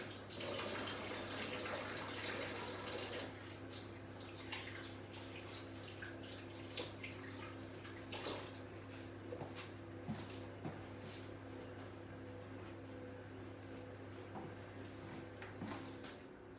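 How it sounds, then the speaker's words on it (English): Tap water runs steadily into a kitchen sink while hands are washed, a close continuous splashing stream with small clatters and drips, no talking. "Pop the things in the bin and wash my hands."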